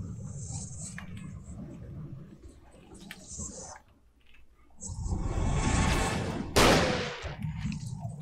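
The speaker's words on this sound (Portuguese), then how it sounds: "É um tiro de 12 nesse infeliz." A 12-gauge shotgun fires a single loud, sharp blast late in Alan Wake gameplay, standing out against quieter in-game ambience, shuffling and a swelling rumble just before it.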